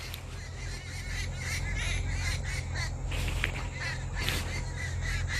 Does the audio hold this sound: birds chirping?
yes